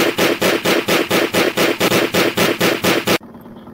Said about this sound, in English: The rear Gatling gun uses high-pressure steam to fire its shells.